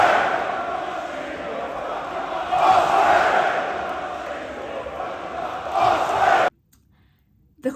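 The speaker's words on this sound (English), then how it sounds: "The crowd were chanting so much." Wrestling crowd at a Revolution Pro Wrestling show for Shingo Takagi versus Will Ospreay, a big arena mass of voices chanting in surging waves that swell and ease, then cut off abruptly near the end.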